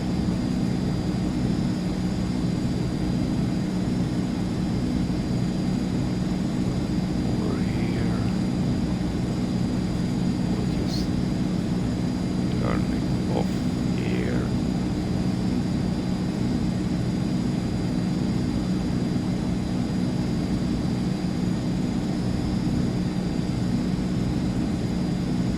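Steady, loud aircraft engine drone from a plane taxiing in Microsoft Flight Simulator 2024, holding an even hum throughout with a few faint brief chirps and clicks on top.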